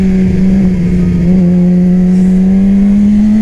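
A race-prepped Yamaha R6 sport motorcycle producing 117 horsepower revs steadily at high pitch, the engine note loud and close, holding a sustained whine with no voices.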